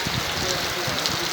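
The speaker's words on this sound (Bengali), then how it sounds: "এইভাবে বৃষ্টি হতে থাকলে বাড়ি যাওয়া অসম্ভব হয়ে যাবে।" Heavy rain pours steadily near Gourdighi on the way to Hariharpur, a dense, even hiss across the whole moment with low rumbling underneath.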